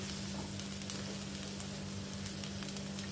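Spiced masala for Chicken Kanti is stirred in a hot pan, giving a close, steady sizzle with light scraping ticks and no talking.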